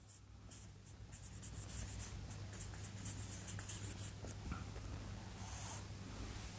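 Pen scratching steadily across paper as a physics statement is written out in a quiet room, with a continuous faint scraping of strokes and small pauses between words.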